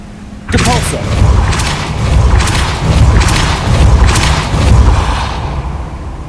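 The Depulso spell is cast in Hogwarts Legacy, opening with a sudden loud boom and then rolling through several whooshing, rumbling surges that slowly fade.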